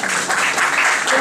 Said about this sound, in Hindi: ताली बजाओ यहां।